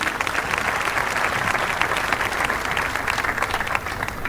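Audience applause at the CVMA 2025 Cape Verde music awards ceremony for a longtime arranger and producer, as a steady dense wash of clapping hands carries on for several seconds.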